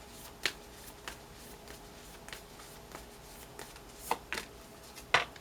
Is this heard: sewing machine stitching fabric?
no